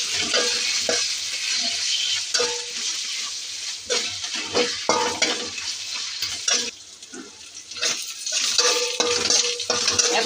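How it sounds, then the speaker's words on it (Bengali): Green chili paste and ginger paste fry in hot oil for a kochu bhorta made with dried kachki fish, a steady close sizzle broken by repeated scrapes and clinks of a spoon stirring against the pan. "এগুলো একটু ভাজবো"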